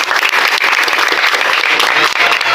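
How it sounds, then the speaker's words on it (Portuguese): Dense audience applause at a church program event, steady and loud throughout with many hands clapping close by, no speech over it. "Parabéns, já estava no palmas para ela."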